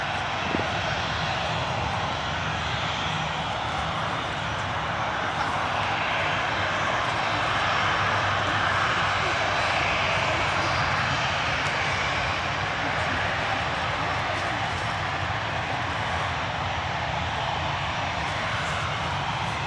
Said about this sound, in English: it's a Aer Lingus regional flight. Well, probably a regional flight. Just touching down there.